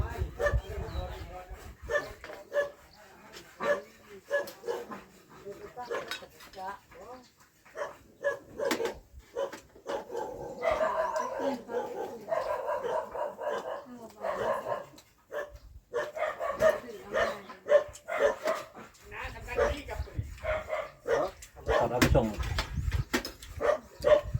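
A dog barks and yips repeatedly near a rural Thai kitchen, sharp bursts scattered through a noisy stretch while people talk throughout.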